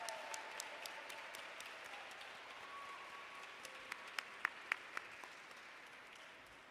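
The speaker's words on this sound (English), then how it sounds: "Would all of the club sports leaders in attendance please stand so that we can give you a round of applause?" A round of applause for club sports leaders at a college athletics and recreation awards ceremony, a steady moderate wash of clapping from a seated crowd with a few sharper nearby claps standing out.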